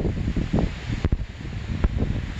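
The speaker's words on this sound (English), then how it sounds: "So it's pretty windy out here right now and chilly." Gusty wind buffets the microphone outdoors in Glacier National Park on a chilly day, a loud rumbling rush with uneven swells and a few sharp gust bursts.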